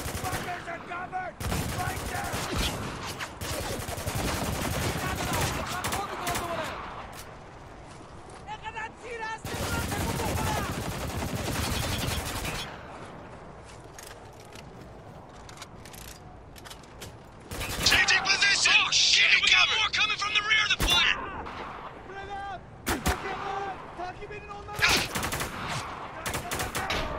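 Gunfire in the video game Spec Ops: The Line, loud bursts of rapid automatic shots and blasts coming in waves across the clip, with shouted voices between and under the firing.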